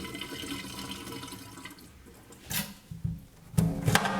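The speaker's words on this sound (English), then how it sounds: "Drain this dirty chicken water." Dirty water drains and splashes off washed chicken pieces in a kitchen sink, quiet at first, then several louder pouring bursts close by.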